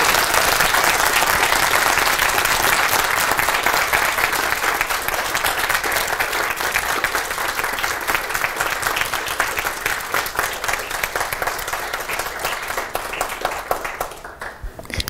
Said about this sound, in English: this huge applause